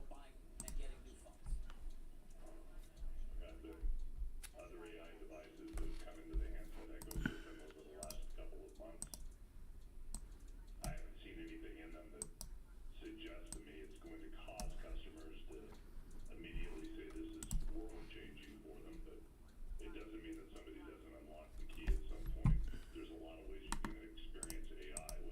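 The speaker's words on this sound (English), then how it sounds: "Sorry that the mouse, I'm clicking it right in front of the mic." Computer mouse clicked right beside the microphone during a live options day-trading stream, giving repeated sharp clicks at an irregular pace under ongoing talk.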